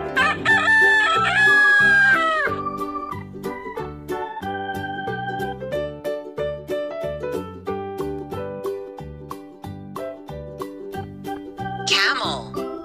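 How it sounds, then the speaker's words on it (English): A rooster crows loudly and clearly at the start, one long drawn-out call, then a bright rhythmic children's tune with chiming notes carries on alone after it. "Rooster."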